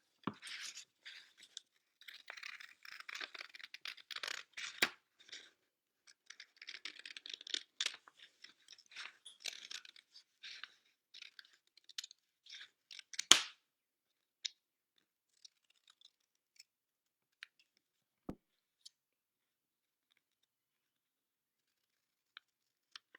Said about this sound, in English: And cut circles out.